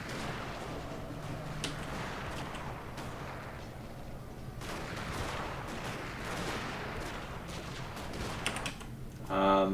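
Massed musket and artillery fire from troops in the battle game Total War: Shogun 2, Fall of the Samurai, a dense continuous crackle of distant volleys and rumbling booms, with a voice speaking briefly over it.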